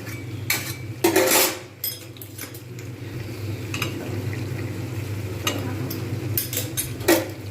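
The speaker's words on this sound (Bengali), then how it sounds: "এবার এপিট করে আমি নাড়িয়ে নেব" A metal spoon stirs giant taro curry in a pan, giving irregular clinks and scrapes against the pan with a few louder clatters over a steady low cooking hiss. No one speaks.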